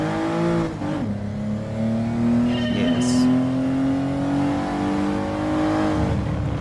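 A heavy, turbocharged car engine drives in the racing game Gran Turismo Sport, a steady, close drone that rises in pitch as it accelerates, with a brief shift dip and turbo whistle.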